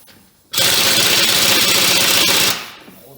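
A quick welding burst on a Ford F250 spring and shock mount: a loud, close, harsh crackling buzz that starts abruptly, holds steady for about two seconds and then cuts off, with no talk over it.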